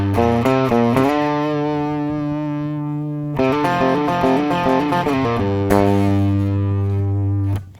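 Distorted electric guitar plays the A Hard Day's Night solo slowly, sustained single notes and short runs in steady phrases with effects, loud and close with no talking.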